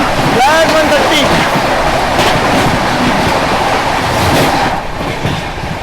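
Mumbai Rajdhani Express, an Indian express passenger train, rushes past close by at speed, a steady loud roar of wheels and carriages with faint rhythmic clatter throughout; no one speaks.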